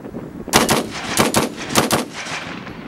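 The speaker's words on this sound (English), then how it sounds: "we're going to go shoot a lot of ammo right now" Rifle shots from an Alex Pro Firearms rifle at an outdoor range, several loud, sharp reports in quick clusters with ringing decay between them and no talking.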